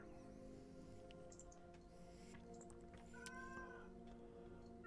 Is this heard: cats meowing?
yes